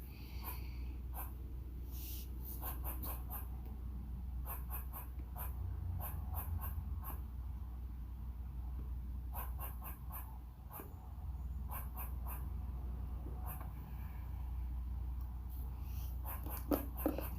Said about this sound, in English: y'all are about to hear barking squirrels because my cat, the fat one, is out here chasing squirrels